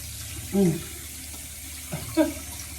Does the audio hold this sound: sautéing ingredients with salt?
no